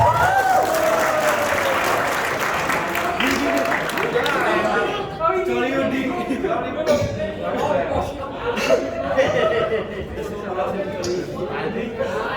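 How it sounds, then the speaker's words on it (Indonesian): A church congregation claps during a Sunday sermon gathering, moderately loud applause that thins out midway while voices chatter and laugh over it. "tepuk tangan untuk semua"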